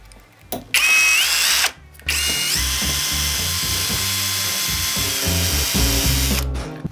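Revolt cordless drill driver spinning a 1.5 mm bit, a high whining motor that starts, pauses briefly, then runs steadily with shifting pitch while drilling through the workpiece.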